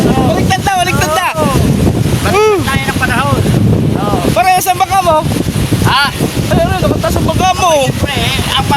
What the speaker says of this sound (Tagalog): Grabe, hangin lakas!